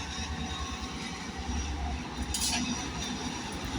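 A Class 59 diesel locomotive, number 59205, shunts at Harlow Mill with a steady low engine rumble and rail noise, with a brief higher squeal partway through.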